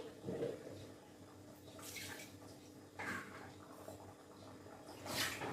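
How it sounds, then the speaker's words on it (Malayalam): Water from a rinsed mixer jar is poured into a dried-fish curry in a few faint, brief splashing bursts, quiet and close, with no talking. "അപ്പൊ മിക്സി ജാർ കഴുകിയ വെള്ളം കൂടി ചേർക്കാം"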